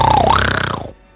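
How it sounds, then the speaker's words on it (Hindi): A tiger's roar, voiced as Shere Khan in a Hindi-dubbed Jungle Book cartoon, comes as one loud, gravelly growl lasting about a second and then stops abruptly. "ओ, ये तो शेर खान की आवाज है।"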